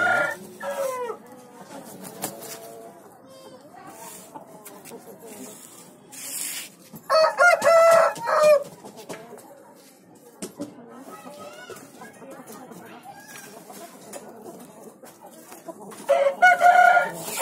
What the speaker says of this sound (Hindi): फुल साइज मादीन है, लंबे बदन की मादीन है भाई